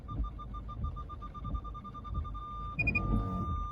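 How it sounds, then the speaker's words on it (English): Steady electronic beeping of a 2020 Nissan Altima SV's rear parking sensor, repeating in an even rhythm before switching to a higher continuous tone, over low engine rumble. "You're going to hear the rear sonar"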